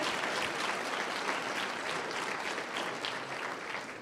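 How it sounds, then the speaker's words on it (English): An audience at an education conference applauds Julia Gillard, Australia's Minister for Employment, with dense steady clapping that fills the room at even loudness and tapers slightly at the close. "let's give her a round of applause."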